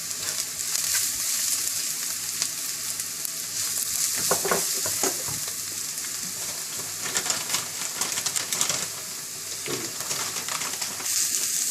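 Onion with a little turmeric frying in a pan for an Indian green curry, a steady close sizzle with scraping stirs throughout, no talking.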